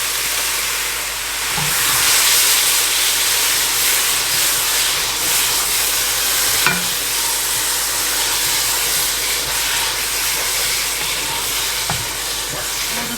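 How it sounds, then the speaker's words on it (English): Gochujang sauce and vegetables sizzle steadily in a hot pan, a dense, loud hiss that goes on without a break, with a few faint clicks of stirring. "I'm going to go ahead and add my sauce so that some of that garlic can kind of cook out just a little bit."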